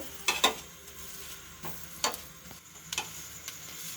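A paratha fries in oil in a pan with a soft, steady sizzle, broken by a few sharp clicks and scrapes of the spatula at irregular intervals.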